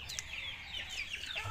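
A KUB native chicken clucks in a short series of soft calls, fairly close, with no voices.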